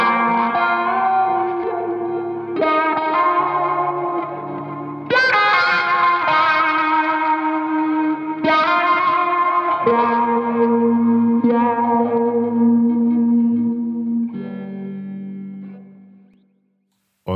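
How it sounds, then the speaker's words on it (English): A wah-pedal guitar line run through a chain of effects with echo, reverb and some distortion, playing sustained, shifting notes continuously for about fourteen seconds before fading out, with no talking. "So first up, we've got this wah line."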